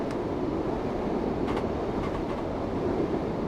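Train Sim World 3 train rolling along rails on the Glasgow to Edinburgh line, a steady broadband rumble with faint rail clicks and light squeals, continuous and fairly close, no talking.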